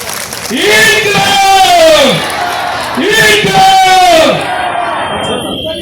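A large crowd at an outdoor protest rally in Dharavi erupts in two loud, rising waves of chanting and cheering voices that swell and fade, close and powerful.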